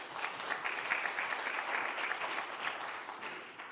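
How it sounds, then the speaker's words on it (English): Applause from a symposium audience at a rail event in Paris for a panel speaker, a steady dense clapping that fills the room for nearly four seconds and fades slightly at the end. "Round of applause for Alberto, please"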